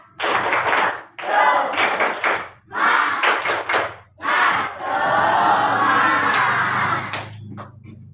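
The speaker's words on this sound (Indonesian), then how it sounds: "Tahu tepuk semangat?" A school class performs a rhythmic clapping chant, bursts of loud group claps and voices in repeated phrases separated by short pauses, ending in a longer sustained stretch of clapping and shouting.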